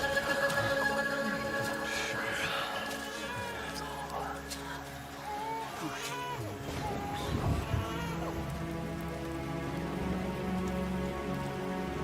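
Rain in a video game scene pours down as a steady, fairly loud hiss, with occasional thuds and clatter, while people talk over it.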